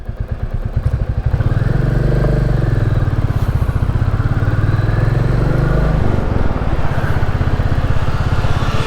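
Royal Enfield Classic 350 motorcycle under way on a ride to Newquay, its loud steady engine thump and throb close up, rising and falling slightly with throttle, with wind rush and no talk.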